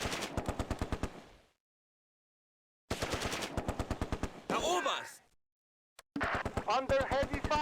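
Machine gun fire in the Close Combat war game, set on Polish drop farmland, with long rapid bursts of shots separated by silence, loud and close, and a short radio-style voice between bursts.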